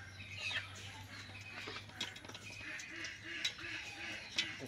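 A duck calls softly in a quiet setting, giving a short series of repeated low quacks in the latter half over a faint background hum.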